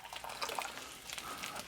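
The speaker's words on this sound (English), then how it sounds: "Let's put a little hot water in here" Hot water pours and trickles gently into a pouch of French F1C MRE ration mix, a faint liquid splash over a short stretch, with no talking.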